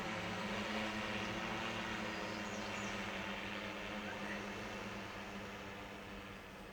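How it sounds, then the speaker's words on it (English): A delivery drone's tractor propeller whirs up into a loud, steady buzzing drone with an even mechanical hum that holds and fades slightly toward the end. "I love the way the tractor prop fires up and it transitions"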